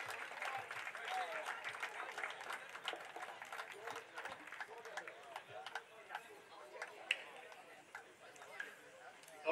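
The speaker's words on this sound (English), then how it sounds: "A big round of applause to Cottenham." Scattered applause for amateur football teams collecting medals outdoors, quiet and uneven claps with voices and chatter mixed in, tapering and then a sharp knock at the end.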